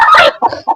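A mother hen near her newly hatched chicks gives a short, loud burst of clucking, one harsh note followed by two softer clucks, all close by.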